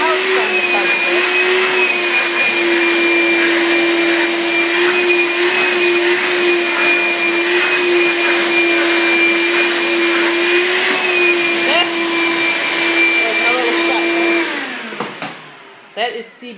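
A vacuum cleaner runs continuously over a dog, a loud steady motor whine with a high hum, close by, before it cuts off near the end with a few clunks.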